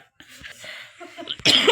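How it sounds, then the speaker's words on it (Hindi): A few short, muffled coughs, then a louder, harsher burst of coughing at the end, close and breathy. "खांसी हो रही मम्मी को"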